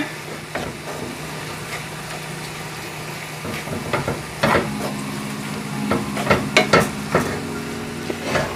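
Ground lamb stirred and broken up in a frying pan with seasoning and Worcestershire sauce, a steady low sizzle under irregular scraping and clacking of a utensil against the pan, growing busier toward the end.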